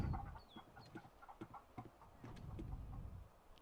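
Chickens in The Sims Medieval cluck in short, scattered bursts at moderate distance, with soft game ambience and occasional faint chirps in between.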